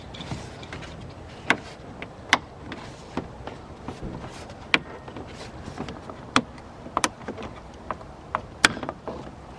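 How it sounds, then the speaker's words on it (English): Flat-bladed screwdriver prying plastic tabs off a BMW bumper, sharp irregular clicks and snaps scattered over scraping and handling noise, close up with no talk. "what I'm going to do with the flat bladed screwdriver is just pop these tabs off of the bumper"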